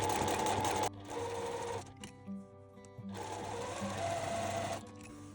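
Domestic sewing machine stitching fabric scraps with a short stitch length, fast mechanical rattling in several runs broken by brief pauses, close and fairly quiet.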